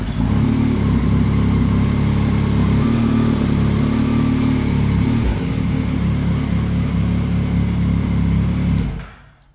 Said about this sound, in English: And then we can start the bike.